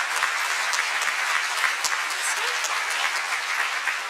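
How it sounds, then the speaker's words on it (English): An audience at a municipal mayoral debate in Antigonish claps for the two candidates, dense sustained applause close and loud throughout, with no talk over it. "please join me in giving a round of applause for our 2 candidates"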